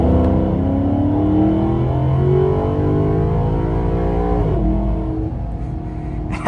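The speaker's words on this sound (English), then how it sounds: "we're gonna put our foot down and just see how this GranTurismo responds" Maserati GranTurismo MC with a naturally aspirated engine accelerating hard, a loud close engine note rising steadily in pitch through the revs, easing briefly before pulling on again, with no talk.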